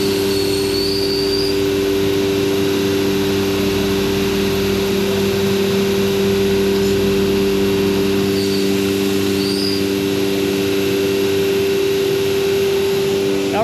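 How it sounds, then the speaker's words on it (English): Vacuum pumps holding a taped 6061 aluminum workpiece down on a CNC machine table drone loudly and steadily, a constant motor hum with strong tonal bands and no breaks, no voices over it. "Tape put around the perimeter of the workpiece to help the vacuums hold it down."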